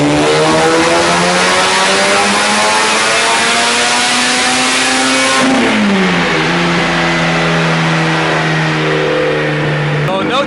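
A rotary-engined tuned car revs hard through a power pull, its loud, buzzing engine note climbing steadily, dipping briefly mid-run, then holding a high drone to the end, with tyres smoking and rubbing.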